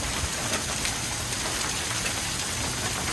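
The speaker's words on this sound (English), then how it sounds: "This is the most hail I've ever" Hail pelts down during a severe thunderstorm in Edwardsville, Illinois, a dense, steady roar of pebble-sized stones striking surfaces, loud and unbroken throughout with no speech.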